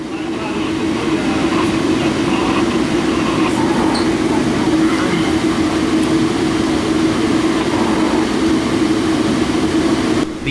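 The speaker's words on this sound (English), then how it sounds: "empty Florida Rock unit train from Taft, Florida" An empty Florida East Coast rock unit freight train rolls past steadily with a continuous low rumble and wheel noise, loud and constant throughout.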